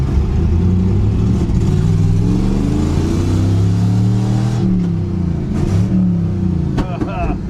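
A Chevy Nova with a three-on-the-tree manual gearbox drives along, its engine droning loud and close with rising and falling revs as it accelerates, a voice speaking briefly over it.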